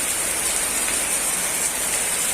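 Steady rain falls on the main road of Sorupathar town in Assam, a continuous broadband hiss with no breaks and no voices, moderately loud and close.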